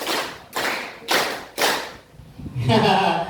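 A group of students at a school orientation session claps in unison, four sharp, evenly spaced claps, followed by a voice speaking.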